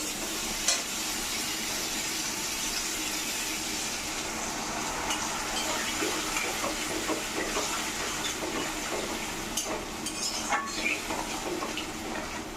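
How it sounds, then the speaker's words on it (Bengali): Water added to a pan of fried potatoes and eggplant for a thin fish curry, giving a continuous hissing sizzle with scattered crackles and bubbling, fairly close and without talk. "আলু বেগুনটা কষানো হয়ে গেছে, এখন এর মধ্যে আমি দিয়ে দিব জল"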